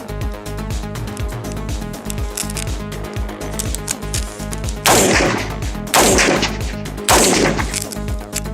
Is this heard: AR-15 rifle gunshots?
yes